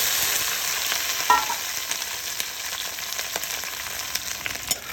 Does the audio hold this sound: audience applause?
no